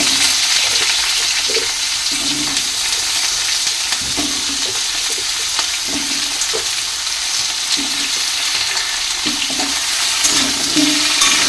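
Fish frying in hot oil gives a loud, continuous sizzle with small bubbling pops throughout, close up and without any talking.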